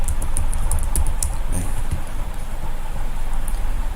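Rapid, uneven keyboard clicks from typing on a computer keyboard while working on a church service design in Photoshop, fairly close, set against a steady, loud background hiss with possible faint voice underneath.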